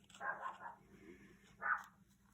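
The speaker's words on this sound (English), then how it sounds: "That is my little Yorkie Maggie barking in the background" A tiny Yorkie barks a couple of quick, thin yaps from the background of a quiet room where a lampshade is being sewn, fairly faint and separated by a short pause.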